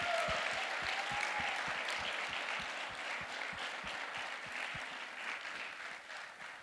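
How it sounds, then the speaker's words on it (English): A church congregation claps for its 2019 high school and college graduates during a Sunday morning service, a steady, rhythmic round of many hands that fills the room and fades slightly toward the end. "Clap our hands for our graduates this morning."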